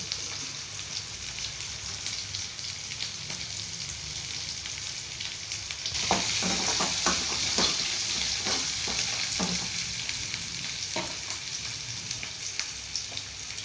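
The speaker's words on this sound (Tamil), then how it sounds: "அந்த பூண்டும் அந்த வெங்காயமும் நல்லா எண்ணெயில் வதங்கின பிறகு" Onion and garlic fry in oil for a home-cooked lunch curry. A steady close sizzle runs throughout, growing louder about midway, with scraping stir strokes and small crackles over the hiss.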